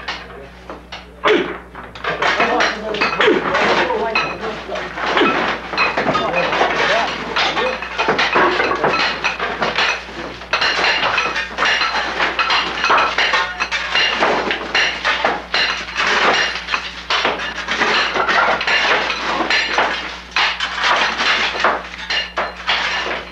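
Lapis lazuli being mined by hand with chisels and hammers inside a mountain in Afghanistan: dense, irregular metallic clinks and knocks on rock, close and continuous for over twenty seconds, over a low hum.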